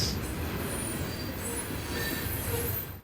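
A train rolls past in Indiana's Whitewater Valley, a steady loud rumble of wagons on rails with high squealing wheels cutting in and out over the whole stretch.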